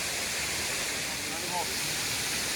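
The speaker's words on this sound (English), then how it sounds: "Montenegro's very own Niagara waterfall." A waterfall in Montenegro, known as the Niagara waterfall near Podgorica, roars steadily and loudly throughout as a broad, unbroken hiss of falling water, with faint voices briefly audible underneath.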